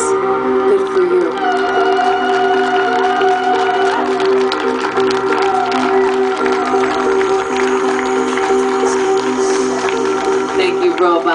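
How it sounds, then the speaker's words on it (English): Crowd applause and cheering at a Burning Man ambient music set fill the space continuously and loudly, blending with sustained music tones. "give yourself a big round of applause"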